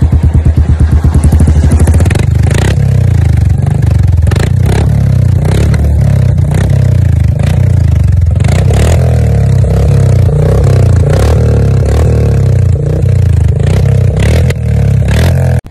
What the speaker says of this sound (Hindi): तो चलिए चलते हैं फोर्थ साइलेंसर की तरफ, एंड ये है रेड रूस्टर परफॉर्मेंस एग्जॉस्ट।